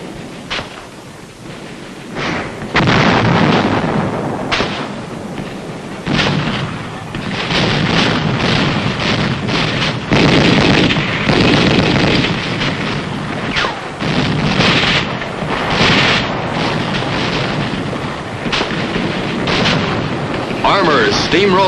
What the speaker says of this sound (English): traded shell for shell, pounded them with mortar, and pushed on.